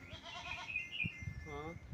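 A goat bleats at a crowded livestock market in Harike, Punjab, its wavering cry rising clearly around the middle of the clip while murmuring voices and crowd noise carry on underneath.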